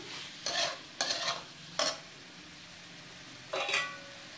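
A few spaced stirring scrapes of a spoon through tomatoes and salt in a pan, close up, with a faint sizzle between strokes and no voices.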